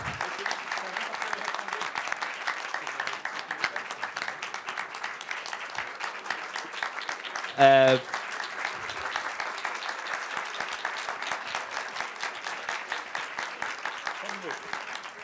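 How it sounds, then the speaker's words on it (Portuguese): An audience at a university event applauds a political speaker: a sustained wash of many hands clapping at moderate distance, with a brief louder burst midway and some voices mixed in. "Uma salva de palmas, Ciro."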